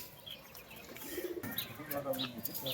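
Short-bodied fancy pigeons coo softly in a loft, a brief low warbling call followed by a few more faint coos and light chirps, with a voice talking nearby.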